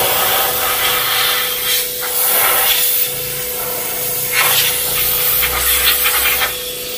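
Compressed air from an air compressor blasts over a Montero Sport with an overheating problem, a loud, broad hiss that pulses in several strong bursts over a low steady hum.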